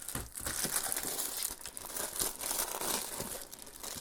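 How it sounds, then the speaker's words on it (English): Plastic packaging around a keyboard case crinkles and crumples up close during unboxing, in bursts of crackly rustling with brief tearing edges and no speech. "Now let's go and show you guys here unboxing this keyboard."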